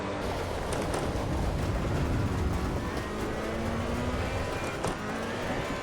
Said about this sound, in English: You can hear the stuff on the wheels hitting the undercarriage.